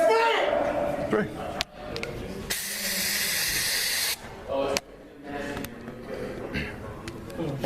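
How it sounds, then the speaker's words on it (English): OC pepper spray is sprayed in a jail cell as a steady, harsh hiss of more than a second, set between shouted voices and other commotion. "OC spray has been deployed into"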